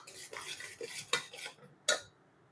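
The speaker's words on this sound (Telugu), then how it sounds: "ఇప్పుడు పిండిని కొంచెం కొంచెం వేసుకుంటూ కలుపుకోవాలి" A spoon stirs flour into hot jaggery syrup in a pot for ariselu, giving a few close scraping strokes and sharp metallic knocks against the vessel, with no talking.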